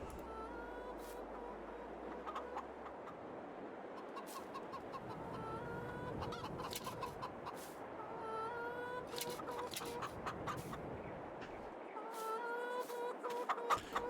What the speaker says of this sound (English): Well, chickens, you are loud, ain't you?